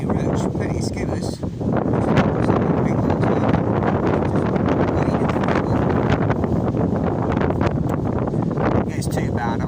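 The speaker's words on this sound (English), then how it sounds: "As you can probably hear, it is absolutely blowing at the minute." Gale-force wind at the coast while fishing: heavy, constant buffeting roars across the microphone, loud and close, with gusty surges and someone talking over it.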